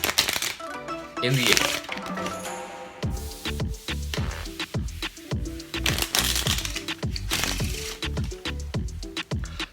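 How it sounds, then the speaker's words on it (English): Rapid crackling flutter of playing cards being riffled together, repeated in several quick bursts, close by with a voice talking over it. "how to do a riffle shuffle"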